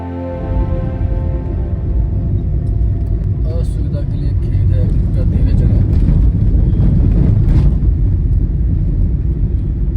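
Car crossing a narrow bridge over a seasonal river in Saharanpur district, in hill country on the Delhi to Dehradun road: a steady, close low rumble of engine and tyres with wind buffeting that swells slightly midway.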